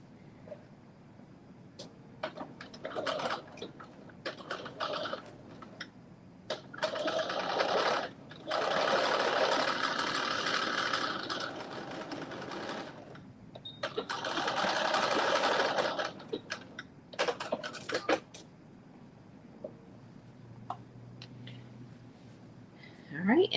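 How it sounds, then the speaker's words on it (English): A sewing machine stitches down the side of a zipper on a McCall's 8370 garment. The motor whirs in several long and short bursts with pauses between, and a person talks in the gaps. "now I'm going to stitch down the side of the zipper"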